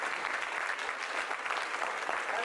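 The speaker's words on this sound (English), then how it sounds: "Can we have a round of applause for the cannabis lawyers?" An audience applauds for cannabis lawyers, a steady, dense clatter of many hands clapping together with no break.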